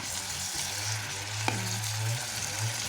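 Pancit bihon rice noodles frying in a pan, a low steady sizzle with a faint scrape of stirring and a brief clink midway, close and fairly quiet.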